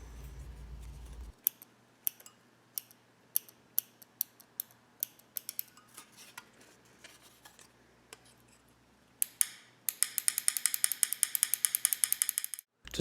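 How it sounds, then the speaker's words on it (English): Springs inside a Beeshu Ultimate Superstick joystick for the SEGA Master System give sharp, isolated clicks at an irregular pace. They speed into a rapid burst of loud snaps near the end, heard close up with no talking. "you can also hear the clicking sound from each spring, or the lack thereof, on the left and up"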